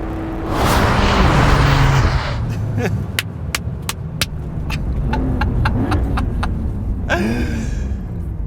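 A Porsche 911 Carrera GTS with a performance hybrid system accelerates hard. A loud engine roar climbs through the gears, gives way to a series of sharp crackles and pops, then rises again into another rev.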